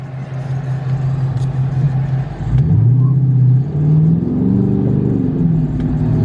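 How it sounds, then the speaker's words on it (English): A 2018 Dodge Charger fitted with Super 10 mufflers and a resonator delete burbles with a deep, close exhaust rumble that swells louder partway through as the engine is given more throttle, with traffic around it. "car sounds amazing, bro."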